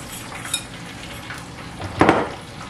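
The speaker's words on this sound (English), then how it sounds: "Stir this up, evenly mix the two types of flour." Two types of flour are stirred together in a bowl for fish and chips, giving soft scraping and brushing strokes with a sharper clink of utensil against the bowl near the end.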